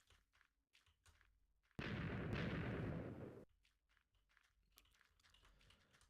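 A Minecraft explosion bursts out as a single loud, roaring blast lasting over a second and a half, set against quiet in-game background sounds before and after.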